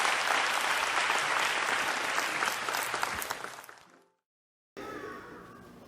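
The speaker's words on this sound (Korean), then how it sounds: "우리 그 주님께 영광의 박수 올려드리겠습니다." A Sunday service congregation at a Methodist church breaks into dense, sustained applause that fills about four seconds before fading out into a brief silence, after which a different quieter sound begins.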